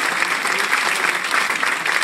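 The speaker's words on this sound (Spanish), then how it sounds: "Vamos a darle otro fuertísimo aplauso más a Alex y a Papi" A crowd claps steadily and energetically for Alex and Patty Buitrago, a dense, even wash of applause with no pauses.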